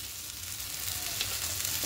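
Potatoes sautéing with spices, salt and a little sugar in a pan for a Bengali fish-roe fritter curry, giving a steady close sizzle and hiss of frying with no voices.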